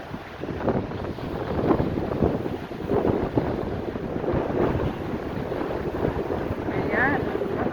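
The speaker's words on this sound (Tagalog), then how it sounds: "It's quite cloudy today and windy." Strong wind gusts buffet the microphone at a park beside the beach, a rough, uneven roar with surging bursts that sounds like surf or passing water close by, running without pause and without speech.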